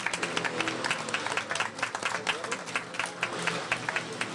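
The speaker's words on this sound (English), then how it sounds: "So I'd just like you all to give them a round of applause for all their hard work." An audience gives a round of applause for park staff at a mayor's press conference announcing a playground rebuild, with many hands clapping in a brisk, steady patter that holds at an even level for several seconds.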